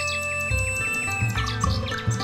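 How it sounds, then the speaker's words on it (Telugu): A nightingale sings a rich, continuous song of bright chirps and whistled trills over a sustained tonal background, close and clear throughout. "ఎంత చిన్న పక్షికి ఎంతో అద్భుతమైన స్వరం ఉంది."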